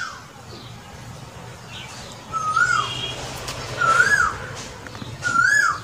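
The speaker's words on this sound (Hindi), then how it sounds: "कोयल" Three rising whistled calls of an Asian koel, evenly spaced and clear, over a soft background hiss, heard from under a tree while rain falls.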